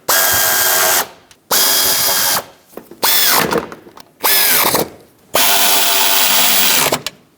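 A power tool snugs strut bolts on a 2013-2020 Nissan Pathfinder in loud, close bursts, five runs of about a second each separated by short pauses, with the pitch winding up and down in the middle bursts.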